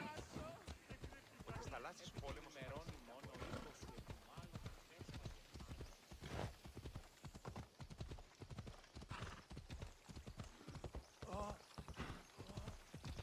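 A horse's hooves clip-clop at a steady trot in Assassin's Creed Odyssey, the rhythmic beats running throughout at moderate level, with a neigh and a voice talking over the footfalls.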